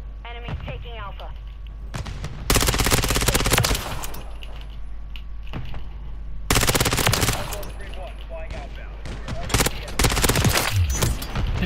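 Bursts of rapid ISO 9mm submachine gun fire in Modern Warfare 3, loud and close, in two long sustained strings with shorter gaps and quieter battlefield noise between.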